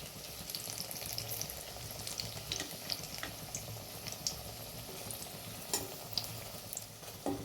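A puffed rice fritter fries in plenty of hot oil, giving a steady close sizzle with occasional spatula scrapes as it is turned over, and no talk.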